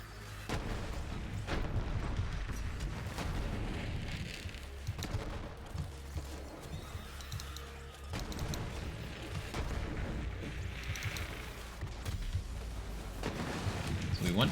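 Borderlands-style game combat with Amara as a grenade bursts and sprays bullets: repeated booms and bursts of gunfire, mid-distance and fairly faint, ringing out in several separate waves.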